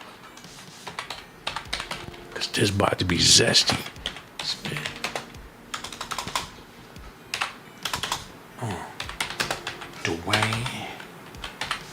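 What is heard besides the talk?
typing on a computer keyboard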